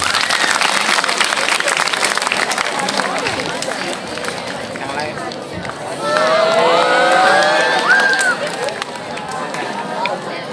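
A class of pupils applauds a classmate, steady crowded clapping running throughout with children's chatter and a brief whistle-like squeal mixed in.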